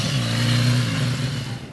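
A 2010 BMW S1000RR sport bike engine revving hard, a loud close, steady snarl that holds strongly then eases off toward the end.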